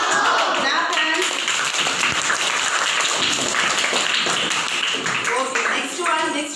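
Schoolchildren in a classroom clap their hands together in a burst of quick, bright applause lasting several seconds, loud and close, with young voices mixed in.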